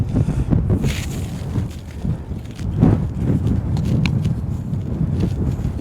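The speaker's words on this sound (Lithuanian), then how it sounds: "Šiandien didelis, labai didelis vėjas." Strong wind buffets the microphone in an open field during metal detecting, a continuous low rumble with gusty swells and scattered rustling thumps, no talk heard.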